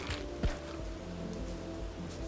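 Rain patters steadily in the game Bugsnax, an even close hiss broken by a couple of sharper drop taps near the start, with no talking.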